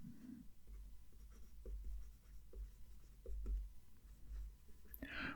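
A Conklin All-American fountain pen with a broad nib scratches across Iroful paper, a close, quiet run of soft scratching strokes with small pauses between them over a faint low hum.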